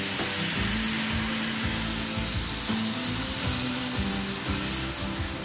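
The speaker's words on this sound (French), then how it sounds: "Je vais venir déglacer les sucres de la lagopède qui ont collé dans la poêle." Onions and grouse (ptarmigan) sugars deglazed with red wine in a hot frying pan give a loud, steady, continuous sizzle and hiss that runs unbroken throughout, with no talking.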